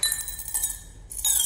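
Coins dropping into a glass of water in a classroom sink-or-float demonstration, giving a few light glassy clinks and chinks at close range with no talk.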